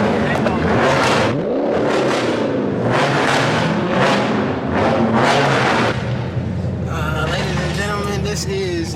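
Old cars at a street cruise night rumble past loudly in repeated surging waves of engine revving, with people talking throughout.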